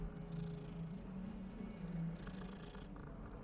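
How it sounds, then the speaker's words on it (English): A cat in the video game Hogwarts Legacy purrs softly and continuously, a low rhythmic rumble heard alone at close range. "pet the cat"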